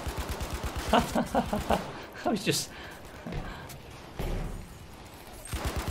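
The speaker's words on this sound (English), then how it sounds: "Keep shooting these people, we got a triple over there. Keep shooting like this, it works." A Madsen MG machine gun fires in Battlefield 5 multiplayer, rapid rhythmic bursts rattling over battle noise, with someone talking over the shooting.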